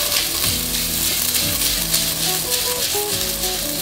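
Vegetables frying in a little extra virgin olive oil for celery soup, a steady loud sizzle with a rattling stir running through it, no talk.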